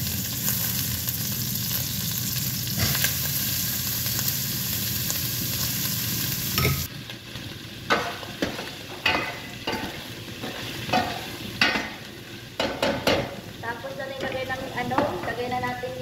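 Onion, garlic and meat sizzle in a hot pan, a loud steady fry that eases when the ingredients go in, followed by repeated scraping and stirring strokes close up, with a voice speaking over it.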